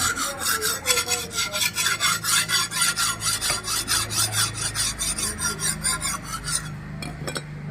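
Steady rhythmic rasping of blades against a sharpening tool at a blacksmith's forge shop, sickles and knives honed in quick repeated strokes, close and continuous, tapering off near the end.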